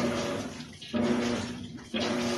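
Tap water pours into a top-loading washing machine in Brazil, a steady broadband rush that briefly cuts off twice before resuming, close and fairly loud with no talking.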